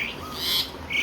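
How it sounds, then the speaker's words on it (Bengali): Two birds squawk at each other in a quick, harsh exchange of a few rasping calls, moderately close, lasting only about a second. "এই দুটো পাখি ঝগড়া করছিল এতক্ষণ ধরে"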